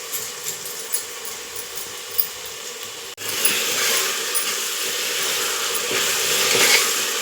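Tomatoes with salt sautéing in a pan for vegetable rice, a steady hiss of frying with light scraping and stirring clicks that grows louder and denser after a brief cut midway.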